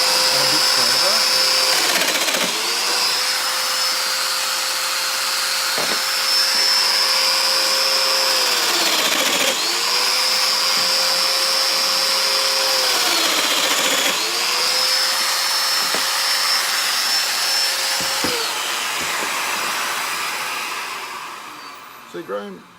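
A domino joiner plunges into wood to cut slots, a loud, close motor whine that rises and drops in pitch three times in a row as each slot is cut, running almost continuously before winding down at the end.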